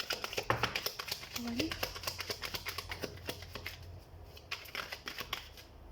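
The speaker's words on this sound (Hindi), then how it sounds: "तो हम कार्ड शफल कर लेते हैं।" Tarot cards are shuffled close by, a quick run of riffling taps and slaps going on throughout while a person talks over them.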